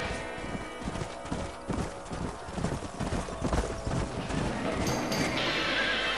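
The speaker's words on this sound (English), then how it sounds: "What magnificent animals they are. Hey, the stallion's getting away." Horses gallop with dense, rapid hoofbeats and neigh loudly in the Red Dead Redemption video game, a thick, driving clatter that continues throughout, with a short shouted exclamation over it.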